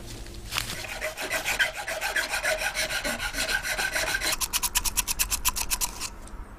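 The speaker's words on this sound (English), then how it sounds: "the first thing is to sand the hell out of this and really make sure that it's nice and clean inside" Sandpaper scrubs the inside of a ram horn flask in rapid back-and-forth rasping strokes, close and steady, and the rhythm quickens into short sharp passes near the end.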